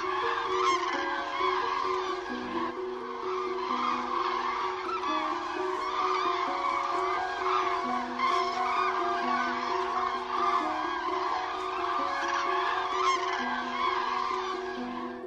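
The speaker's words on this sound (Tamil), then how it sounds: "பிற வாத்தினங்கள் மற்றும் உள்நாட்டு வலசை பறவைகளான கூழைக்கடா, பூநாரை போன்ற பறவைகளின் ஒலிகள் கோடியக்கரை காற்றையே நிரப்புகின்றன" A dense, continuous chorus of honking ducks, pelicans, flamingos and other wetland birds at Kodiakkarai, many voices overlapping at a steady level with no talking.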